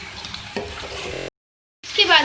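Potatoes and tomato are stirred in a pan for a potato and tinda sabzi, a close rough scraping and sizzle that breaks off into silence, then returns brighter and louder.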